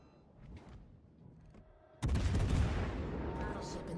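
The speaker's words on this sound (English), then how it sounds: "Battleship in the distance." Heavy battleship guns booming in the distance in a video game, a quiet rumbling stretch broken by a sudden deep blast that rolls on as a long, loud reverberating roar.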